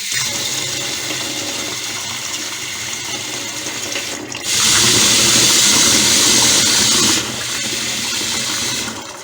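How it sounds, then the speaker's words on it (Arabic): Running tap water pours steadily while chicken livers and hearts are rinsed, a continuous splashing hiss that grows louder in the middle stretch, then eases back. "الميه الجاريه يا حبايبي في نظافه الحاجات دي مهمه جدا"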